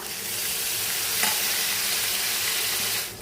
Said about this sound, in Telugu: మీడియం ఫ్లేమ్లో పెట్టేసి వేయించేసుకోండి